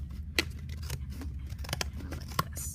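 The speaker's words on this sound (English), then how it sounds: "opening and closing of those scissors as I go around." Scissors snip through stiff cardboard in a series of short, crisp cuts with uneven pauses, close up, with a steady low hum underneath.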